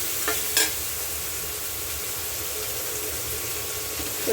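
Food frying in a pan gives a steady, close hiss of sizzling oil, with a couple of brief utensil scrapes near the start, continuous and fairly loud, no talking.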